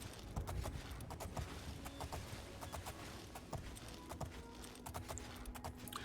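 Horse hooves clip-clop steadily in the video game Oblivion, a quick, even run of hard clopping strikes close by over a soft background hiss.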